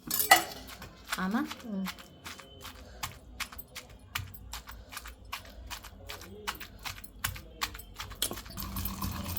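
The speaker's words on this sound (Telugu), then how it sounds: "మా మమ్మీ నూరుతుంది చట్నీ పుదీనా అండ్ టమాటో చట్నీ" Mint and tomato chutney ground by hand in a stone mortar, with a run of sharp, regular scraping and knocking strokes close by and faint voices at moments.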